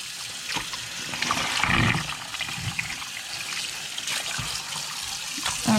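Fabric is rinsed under running tap water, a soft, uneven trickle and splash with a brief heavier gush near the middle, close by and fairly quiet.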